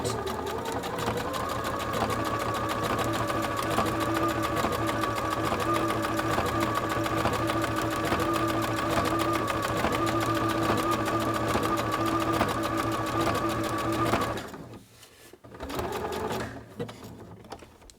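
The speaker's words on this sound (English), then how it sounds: "So it's going to stitch 3 times and then come over and tack this in place." A sewing machine with a blind hem foot stitching fabric, a loud steady mechanical whir with rapid needle clatter for about fourteen seconds, then stopping, followed by brief handling noises.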